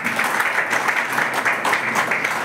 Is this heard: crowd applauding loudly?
yes